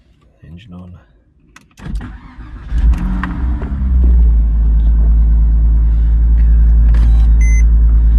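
A Porsche 987 Boxster engine cranks to life around the second mark and settles into a steady, loud low rumble, with clicks and a brief electric motor whine from roof and controls over it, and a voice talks over the idle.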